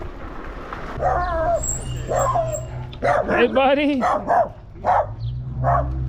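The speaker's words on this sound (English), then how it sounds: "Guard dog, right?" A dog barks and yips in short bursts nearby while people talk casually over a low rumbling background.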